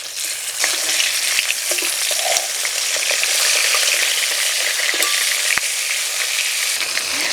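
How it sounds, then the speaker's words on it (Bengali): A dense, continuous sizzle comes from katla fish heads frying in hot oil, close up, with occasional sharper spits and clicks as the pieces are turned. No one speaks. "মুড়োগুলোকে লাল লাল করে ভেজে নেব।"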